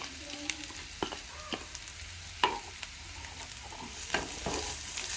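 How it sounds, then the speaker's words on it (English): Ginger, garlic and onions sizzle and fry in a pan with steady crackling, while a utensil scrapes and stirs with soft, close clicks. "I'll keep stirring for around 30 seconds or a minute."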